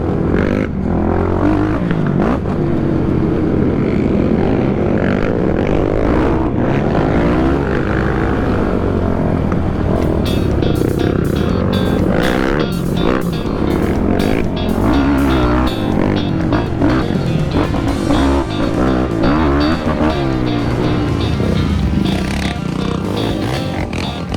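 An off-road vehicle engine with a Sparks exhaust roars loudly and continuously up close, its exhaust note rising and falling as it revs, with rough crackling toward the end.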